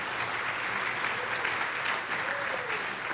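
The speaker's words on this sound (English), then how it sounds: "Let's give them a round of applause." An audience at an orchestra rehearsal claps, a dense, even round of applause that fills the room for a few seconds at a steady level.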